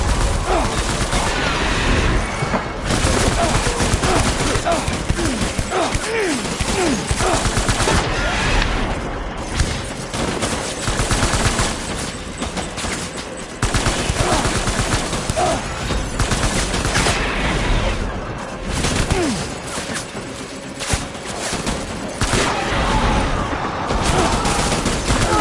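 Sustained gunfire in the video game Death Stranding, dense overlapping rifle and machine-gun bursts with booming impacts filling the whole stretch, loud and continuous, with shouted voices buried in the chaos.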